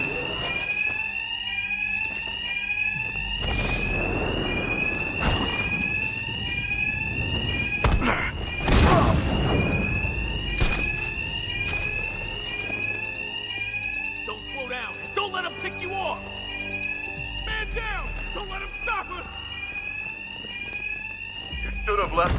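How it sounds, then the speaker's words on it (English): Bank alarms ring in Batman: Arkham Knight, a loud repeating electronic warble cycling steadily throughout, with thuds and impacts of combat and voices talking over it. "these can't hear a thing over the alarms"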